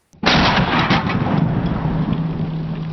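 A single loud .50 caliber rifle shot fired at a milk jug, a sharp blast followed by a long rolling boom that fades slowly outdoors.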